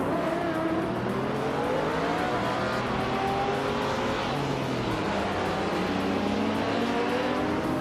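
Racing cars in a video game, led by a 2009 Mercedes-Benz SLS AMG, drone and rev continuously and loudly, engine pitches rising and falling as several cars run together.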